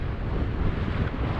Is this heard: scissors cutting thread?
no